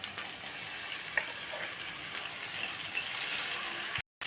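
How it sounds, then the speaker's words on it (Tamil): Chopped tomatoes land in a pan of frying onions for a chicken or mutton kuzhambu, giving a steady, soft hiss and sizzle with faint stirring taps, fairly quiet and without talk. "இப்போ வந்து நம்ம தக்காளியை கொட்டிக்கலாம்."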